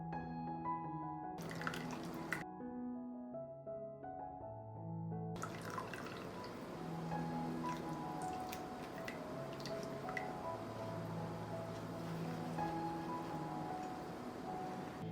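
Whey dripping from fresh homemade cheese squeezed in rolled cheesecloth, a close, soft run of irregular wet drips and trickles over quiet background music, with no one speaking.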